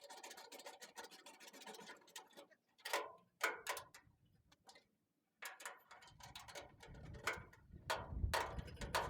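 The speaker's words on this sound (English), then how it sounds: "I literally have 2 fingers on this ratchet." A hand ratchet turns a socket while a flag mount is bolted to a truck bed, giving quiet bursts of rapid clicking with short pauses between strokes, close and faint.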